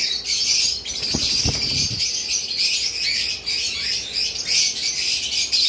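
Cockatiels chirp continuously in a busy, high-pitched chatter nearby, with a few soft low thumps early on and no talking.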